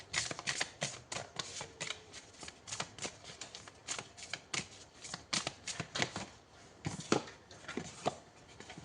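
Tarot cards are shuffled close up in a series of quick, papery riffles and soft slaps, repeating irregularly with brief pauses and no talking.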